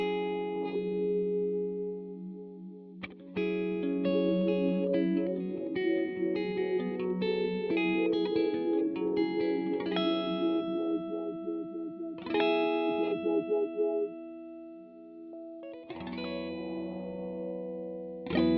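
Electric guitar chords and single notes run through the auto filter effect of a Matthews Technician delay/reverb/looper pedal, with a swirling, wah-like tone rising and falling; no voices.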